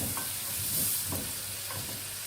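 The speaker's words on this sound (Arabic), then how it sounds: "طبعا سامعين التشطشة وسامعين الصوت الجميل ده." Steady sizzling of food in a pot for cow trotter soup, with a few soft scraping strokes as it is stirred; close and fairly quiet, no voices.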